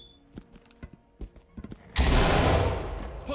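A flashbang grenade bursts in the tactical shooter Ready Or Not, a sudden loud blast after a few quiet thuds and clicks, its bright ringing roar filling the rest of the moment.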